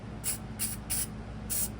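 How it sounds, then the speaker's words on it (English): Four short hissing bursts of matte clear coat sprayed from an aerosol can onto a model railway car, evenly spaced, over a low steady background hum. "I got a little bit of matte clear, not much, and I'm just going to spray"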